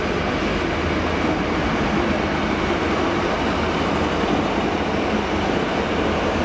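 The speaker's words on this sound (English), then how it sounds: "With an Arriva train passing for good measure." An Arriva train passes through Cardiff Central station near sunset, a loud, steady rumble of wheels and engine filling the whole stretch without a break, with no voices.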